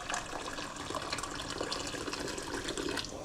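Pre-boiled water pours into a pot for cooking pasta, a steady, soft rushing splash that continues evenly and fairly close, with no speech.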